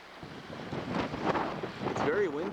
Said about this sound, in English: It's very windy today, making for a lot of quick waves hitting the shore.